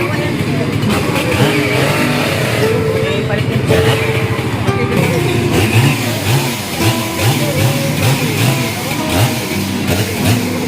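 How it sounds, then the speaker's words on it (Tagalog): A chainsaw engine starts and runs near a fallen tree in storm damage in Daet, a steady mid-pitched drone with rising revs that continues under people talking. "Umandar na. Umandar na yung chinso."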